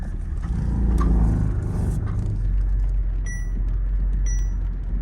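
A Ford Falcon XR6 sedan driving slowly around a property, its engine a low steady rumble with a mild swell early on, plus faint scraping and a few high squeaks from the brakes.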